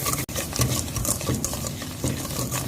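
Butter, sugar and vanilla essence being creamed in a bowl for eggless scones: a steady scraping, swishing stir with soft repeated strokes and occasional light taps against the bowl, close and alone.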